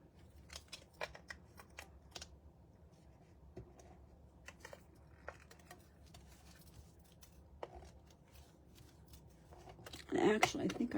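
Scissors snipping through paper or card while making a gift card holder, a series of short crisp cuts spread irregularly, with a louder rustling burst near the end.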